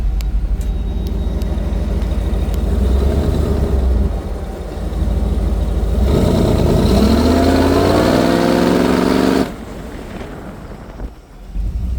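Supercharged 1955 Chevrolet 3100 pickup truck engine, loud and close, idling roughly, then revving up in a rising sweep before dropping back, with a brief dip and renewed rumble.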